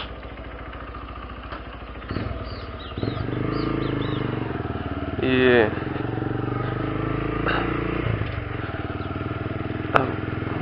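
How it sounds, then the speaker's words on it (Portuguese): A 2015 Honda Fan 150 ESDI motorcycle engine running on a road ride, a continuous low throaty drone with a revving swell midway, heard beneath someone talking. "rolê de moto."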